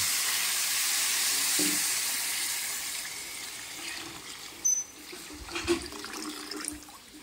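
Khichuri hisses and sizzles in a hot pan as water is poured in, a broad steady frying noise that gradually softens, followed by a few clinks and stirring knocks near the end.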